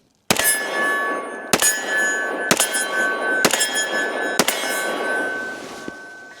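Five sharp, loud gunshots from a Smith & Wesson M&P Carry Comp 10mm pistol, fired at an even pace about a second apart, each with a ringing metallic tail, with no talk.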